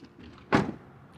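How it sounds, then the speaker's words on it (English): The rear door of a 2026 Toyota Tundra SR5 pickup shuts with one solid, close thunk and a short damped rattle, surrounded by quiet. "And let's do the rear door. A bit heavier to open than the front door. And let's do the door thunk."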